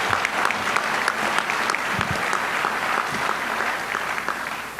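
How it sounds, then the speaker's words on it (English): An audience at a Boise Rotary scholars program claps for the students in an in-person gathering, a continuous, fairly close wash of many hands with a few sharper individual claps standing out. "how about a round of applause for all the kids?"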